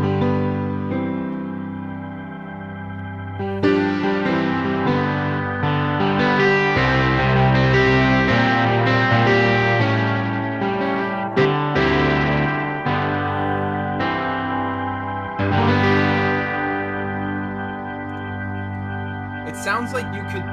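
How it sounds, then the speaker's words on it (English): Yamaha YC88 stage keyboard played through a British lead distortion and tape delay, sustained overdriven chords ringing with echoing repeats, loud and full with short pauses between phrases. "And then B has a distortion effect."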